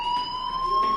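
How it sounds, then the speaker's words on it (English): Fire alarm in the Life is Strange video game, a steady high-pitched electronic tone with sharp harmonics, sounding continuously and fairly loud with no talk over it. "do you hear that fire alarm? That means you should be outside."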